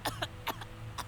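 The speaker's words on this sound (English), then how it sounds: "I cough," A few short, raspy coughs in quick succession, faint and close.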